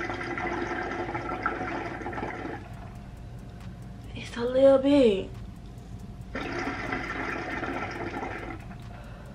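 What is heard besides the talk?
water bubbling in a QIQICI hookah as it is pulled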